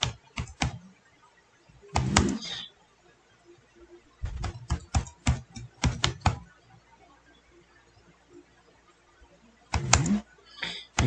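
Quick clusters of computer keyboard keystrokes in short bursts separated by pauses, close and crisp in a quiet room, with no one speaking.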